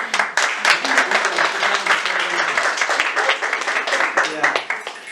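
A room full of people applauds at a cancer awareness gathering, a lively round of hand claps, close and fairly loud, continuing for several seconds with voices mingling in.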